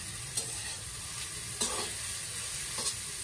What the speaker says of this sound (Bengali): তেল দিয়ে আবার নুন দিয়ে যে নাড়াচাড়া করে নিচ্ছি, এখন হয়ে গেছে